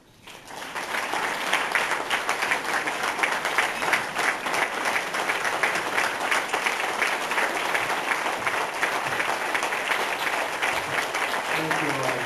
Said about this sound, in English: Y'all please give a round of applause to Senator John Bozeman